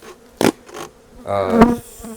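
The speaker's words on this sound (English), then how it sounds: "All 10 frames full of bees." Loud, close honey bee buzzing in short bursts at a hive with ten frames full of bees, a brief sharp drone followed by a longer humming swell.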